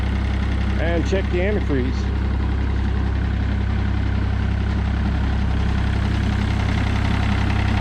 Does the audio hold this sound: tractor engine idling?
yes